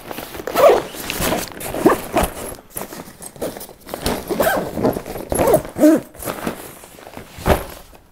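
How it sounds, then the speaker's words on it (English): A zipper closing the boot compartment of a ski bag while packing for a heli-skiing trip, heard as a series of close, scratchy zipping strokes with no talking. "zip that compartment up."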